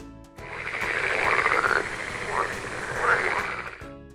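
Frogs croak in a steady stream of rough, throaty calls, fairly close and continuous for a few seconds.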